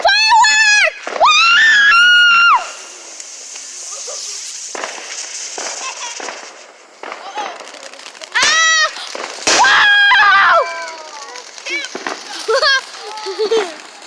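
Fireworks burst and crackle outdoors at a celebration, with several sharp pops and whistling shells spread through the scene, under excited cheering and shouting from children and adults.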